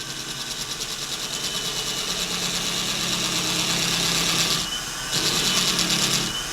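A spinning Lee case trimmer cuts a brass cartridge case, giving a continuous whirring, grinding buzz up close that briefly drops out and resumes.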